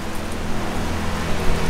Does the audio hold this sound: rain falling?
yes